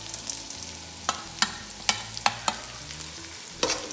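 Ground coriander, cumin and pepper stirred in a frying pan over low flame, with a steady sizzle broken by loud, repeated scrapes of the spoon against the pan.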